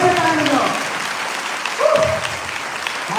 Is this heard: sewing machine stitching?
no